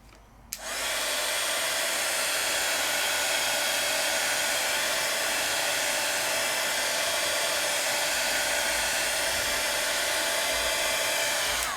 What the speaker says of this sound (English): Let's give it just a little bit of heat, just to make sure everything is all nice and dry.